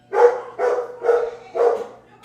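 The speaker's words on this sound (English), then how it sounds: "I hear barking. I love it. Dogs for Dan." A dog barks four times in an even rhythm, each bark loud and close, with short gaps of near silence between them.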